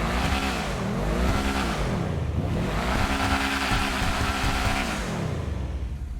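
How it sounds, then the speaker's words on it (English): A car engine revs repeatedly, climbing and falling in pitch in two or three strong pulls over a loud idle, close by with no talk. "I'm going to let you guys hear the startup. So as you can hear, sounds pretty good. I'm going to give it a couple revs here"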